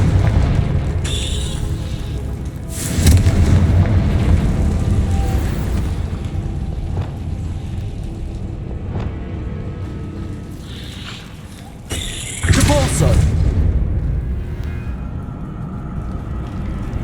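Confringo blasting spell from Hogwarts Legacy, cast in a game: two heavy booming explosions about nine seconds apart, each a loud broad burst over a constant low rumbling game backdrop.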